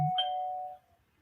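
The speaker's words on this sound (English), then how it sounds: "Somebody ring my doorbell." A doorbell rings once, a clear single chime tone that sounds briefly and then decays into quiet.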